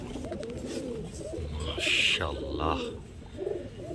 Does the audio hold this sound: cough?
no